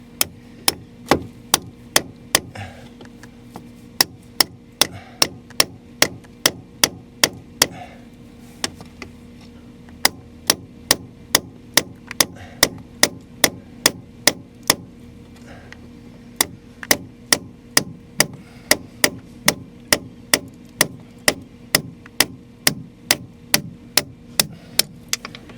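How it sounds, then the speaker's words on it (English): An old wood chisel is tapped steadily to trim excess lead from a plumbing pipe joint, giving a long run of crisp, evenly spaced metallic taps, close and fairly loud, with a few short gaps. "to trim off the excess lead using an old wood chisel"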